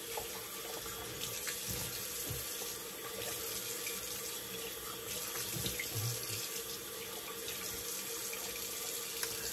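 A bathroom tap runs steadily into a sink, a soft continuous splashing with small irregular splatters as a face is rinsed under the water, heard fairly faint and alone.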